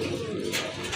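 A pair of light-colored Shua Chandan pigeons coo close by in a brief, soft, throaty murmur.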